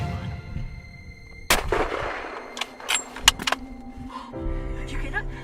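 A single loud hunting rifle shot cracks out at a whitetail buck in Alberta, its sharp blast followed by rumbling echoes and rustling movement, and then a steady engine-like drone.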